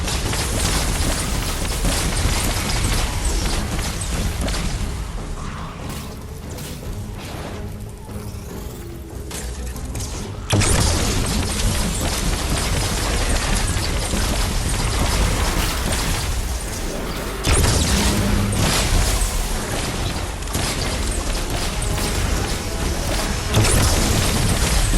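A Plasmatic Discharger weapon in Fortnite Save The World fires and detonates in a dense, continuous wash of booming blasts and crackling bursts, loud and sustained with brief lulls.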